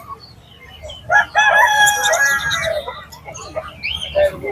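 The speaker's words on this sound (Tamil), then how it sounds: "நாட்டுக்கோழி." A native country rooster crows loudly nearby at a Friday market in Pallavaram, Chennai, a long rising and falling call, with faint clucking and background voices around it.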